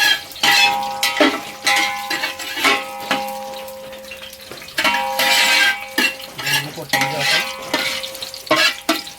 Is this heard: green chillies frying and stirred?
yes